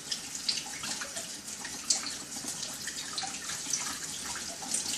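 Mushrooms washed by hand under a running tap, a faint steady stream of water with soft splashes and fingers scrubbing, no talk.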